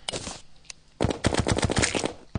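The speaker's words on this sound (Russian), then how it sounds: "Неплохо стреляет наша мини-акула. Очень неплохо." The Minishark machine gun in Terraria fires in rapid bursts, a short spray followed by a brief gap and then a longer run of quick, evenly spaced shots, loud and close.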